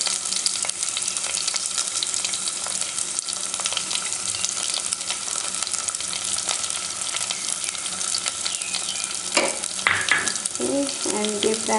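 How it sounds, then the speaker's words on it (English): Onions, green chili and curry leaves frying in hot oil with spluttering mustard seeds for Sri Lankan-style snake gourd, a steady loud sizzle with a brief clatter of stirring near the end. "once the mustard seeds start spluttering, I'm going to add in my onions, green chili,"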